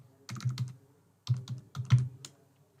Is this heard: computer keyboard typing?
yes